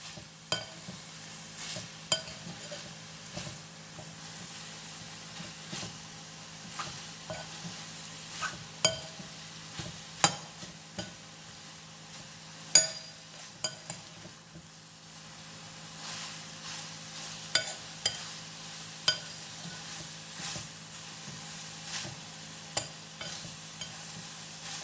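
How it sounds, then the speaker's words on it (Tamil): Soya chunks fry in a pan with a low, steady sizzle while a spoon stirs and scrapes them, giving repeated sharp clinks against the metal at irregular intervals. "இந்த மாதிரி வறுத்து எடுத்துக்கணுங்க."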